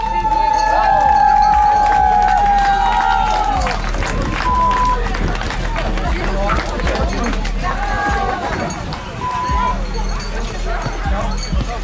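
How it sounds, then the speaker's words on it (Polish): At the finish line of a road race around a lake in Moryń, a crowd claps and cheers runners coming in, steady applause under an announcer's amplified voice and whistle tones. "Brawa, brawa, brawa."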